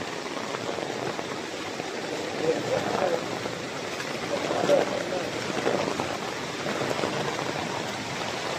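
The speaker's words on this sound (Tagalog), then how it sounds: "Bumos ang ulan." Heavy rain pours steadily as a broadband hiss with no pauses, and faint voices are audible beneath the downpour.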